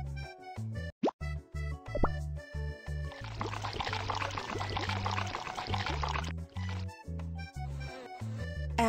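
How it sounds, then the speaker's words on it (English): Cartoonish plopping and pouring liquid effects of coconut juice being filtered in a children's BabyBus game, a gurgling pour in the middle, set over bouncy game music. "Let's filter the coconut juice."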